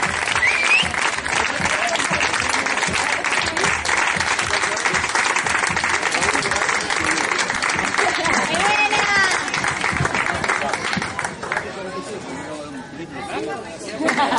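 Spectators at a popular road race in Telde clap for a podium finisher, steady applause running under crowd chatter and voices before tapering off near the end.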